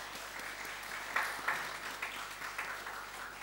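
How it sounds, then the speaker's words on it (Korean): Church congregation applauding the choir during a Sunday service, a moderately quiet wash of many hands with a few sharper claps standing out and no voices over it. "우리 성가대 박수 한번 더 할까요?"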